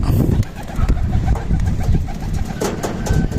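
Racing pigeons coo in low, repeated throaty bursts, close and steady, with some rustling and a faint hint of a voice in the background.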